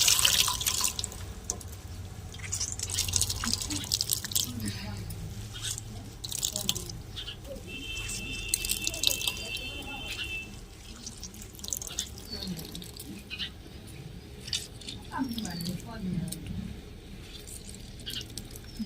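Hot water drains off cooked radish leaves in a kitchen, a continuous splashing and trickling with drips, running steadily throughout under a faint background hum.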